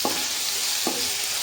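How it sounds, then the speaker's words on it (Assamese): Tomatoes sizzle steadily in hot, oily pan with salt added, with two brief stirring scrapes about a second apart over the continuous frying hiss. "এয়া অকণমান বিলাহীটো ভাজি ল'ব।"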